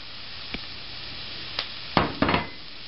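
Onions and mushrooms hitting a very hot sauté pan, with a faint steady hiss broken by a few short sizzling bursts and light pan clatter as food goes in and gets moved around.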